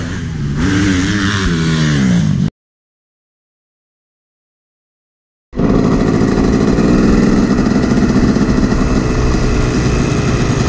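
A Yamaha YZ250 two-stroke dirt bike engine revs loud and close on a sand track, its buzzing drone cutting out abruptly for a few seconds of silence before roaring back and holding steady.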